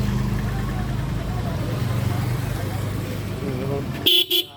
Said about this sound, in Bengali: এই যে ডবল হর্ন, নতুন ব্যাটারি সহ পালসারের হর্ন দেওয়া